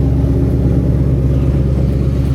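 A 450-horsepower Ford Mustang GT engine just after a cold start, with a loud, close, steady low idle rumble and no talking.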